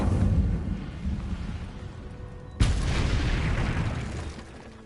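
A fire spell cast in the Hogwarts Legacy video game, a sudden loud whooshing burst that follows a low rumbling background and then fades away.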